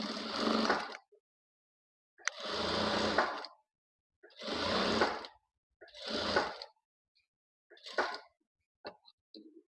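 A sewing machine stitches a quarter-inch folded hem on a boat-neck blouse, running in about five short close bursts of roughly a second each, separated by quiet pauses, with the last runs shorter and more broken.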